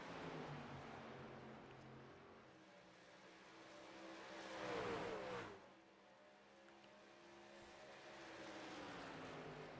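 Race cars lap Charlotte in the iRacing sim, a faint engine drone swelling as a pack draws near and sweeps past midway, then settling back to a distant hum.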